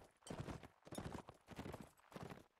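Horse hooves clatter in a medieval multiplayer battle game during a team match, a rapid rhythmic clip-clop in several bursts of galloping that stand out loud and close.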